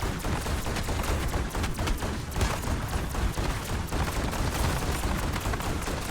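A shotgun fires rapidly in Black Ops 6 Zombies, its blasts merging into a loud, continuous barrage of booming shots with no break over several seconds.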